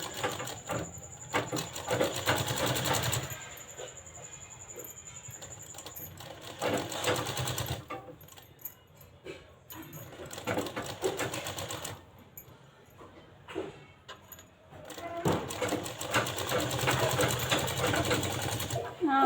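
A sewing machine runs in long bursts while stitching the cup and side panel of a blouse, a fast, steady mechanical whir that stops and restarts several times, with someone talking in between.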